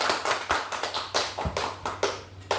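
Classroom applause for a student group: a burst of hand clapping from a small crowd, uneven and fairly close, with sharp irregular claps over about two and a half seconds and no talking.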